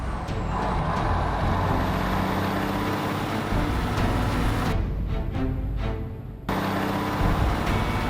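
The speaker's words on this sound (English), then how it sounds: "Accelerating to the 50 miles an hour of the movie." A truck accelerates to 50 miles an hour for a crash test, its engine a loud sustained roar with rising tonal whine, briefly dipping near the end before resuming.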